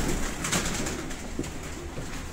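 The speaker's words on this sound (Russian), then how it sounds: "Два брата держат голубей." Domestic pigeons kept by breeders coo softly in a loft, with repeated low throaty calls close by over steady background noise.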